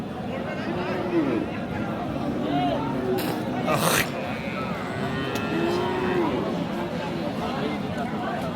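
Several cattle, cows with calves, moo in long, low calls amid a busy crowd of chattering voices at a livestock market, with occasional louder bursts nearby.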